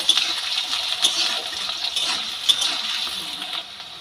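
Small potato pieces fry and get stirred in hot oil, a continuous close hiss of sizzling with occasional sharp clinks of a utensil against the pan.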